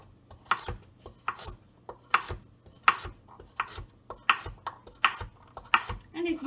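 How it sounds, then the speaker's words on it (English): A knife slices through a carrot on a cutting board with about a dozen crisp chops at a steady, slightly uneven rhythm, close and distinct, with a faint low background hum. "And then I've got a carrot. And I'm just going to slice that up."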